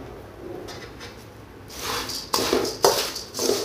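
Puffed rice chevdo with lemon stirred in a pan, a few sharp scraping clatters of spoon on metal near the end, with dry rustling between them and no talk.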